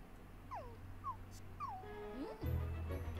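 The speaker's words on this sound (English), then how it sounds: "This the most whiningest dog ever." An indoor dog whimpers and whines for attention on a rainy day, several short rising and falling cries close by, fairly quiet, with a low household hum beneath and a brief louder thump near the end.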